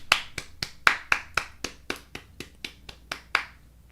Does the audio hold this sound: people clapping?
yes